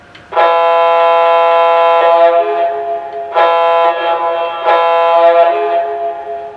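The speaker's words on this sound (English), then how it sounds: "I'm going to go ahead and hit the whistle button so you can hear the horn." A Conventional Classics F-3 model diesel locomotive horn sounds in three sustained blasts, a long one then two shorter, loud, rich and close with no talking.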